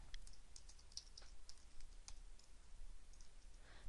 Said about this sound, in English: then typing curly braces to denote a data binding